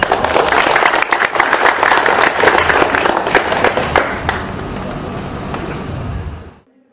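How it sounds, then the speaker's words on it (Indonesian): Applause from a crowd at an outdoor government agency ceremony honoring an award recipient, loud and continuous with some background rumble, fading and cutting off near the end. "Tepuk tangan buat Pak Kasek"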